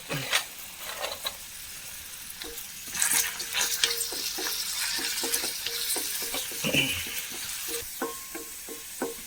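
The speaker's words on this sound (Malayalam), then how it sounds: "രണ്ട് ഉള്ളി അരിഞ്ഞത് ഇട്ട് കൊടുക്കാം രണ്ട് വേപ്പൽ ഇട്ട് കൊടുക്കാം" Chopped onions and curry leaves frying in hot oil, a continuous crackling sizzle with sharp pops and spatters, close and fairly loud, with occasional stirring clinks of a utensil against the pan.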